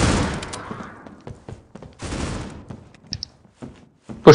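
AK rifle gunfire in the Critical Ops mobile shooter game, two bursts of rapid shots with sharp reports and decaying tails, followed by scattered quieter game sounds.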